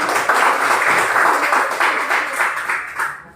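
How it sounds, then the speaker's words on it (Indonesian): A classroom group claps for group 1, producing a steady burst of applause from many hands, loud and close, that fades out toward the end. "Ya, kalau begitu kita beri aplaus."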